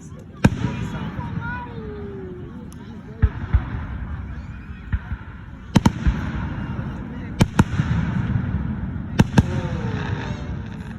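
Fireworks bursting at a 2025 fireworks show, sharp loud cracks and booms at irregular intervals, several in quick pairs, with people talking nearby between the blasts.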